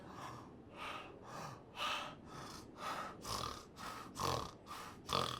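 A man breathes in hard through mouth and nose at once while trying to hawk up phlegm, about ten rhythmic rasping inhales with snorting, close and fairly quiet, no words spoken.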